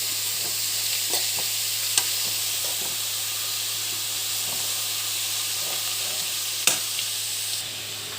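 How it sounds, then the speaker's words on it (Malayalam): Raw papaya thoran with salt crackles softly in a pan as a utensil stirs it, with steady sizzling and a few sharp clacks of the spoon against the pan. "ഇട്ട് കൊടുത്ത് ആവശ്യത്തിന് ഉപ്പും കൂടെ എന്നിട്ട് ഇളക്കി കൊടുക്കുക"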